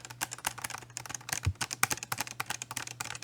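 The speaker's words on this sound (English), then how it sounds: "That's what the switches sound like." Amber mechanical switches on a leverless fighting-game controller, clicking in quick uneven bursts of close, crisp taps that sound like fast typing, with no talking.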